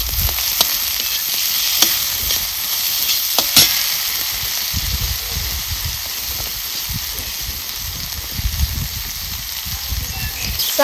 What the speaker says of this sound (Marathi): आता मिरची सुद्धा आपल्याला चांगली परतून घ्यायची